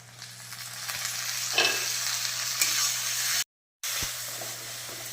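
Spices and chopped tomatoes fry in a pan with a bright, continuous sizzle and occasional stirring clatter, cut by a brief silent gap near the end before the sizzle resumes.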